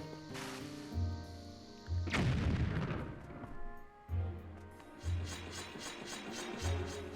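Bombs exploding in The Legend of Zelda: Wind Waker, several booming blasts at irregular intervals, one large burst near the middle, over game background sound, with no talk.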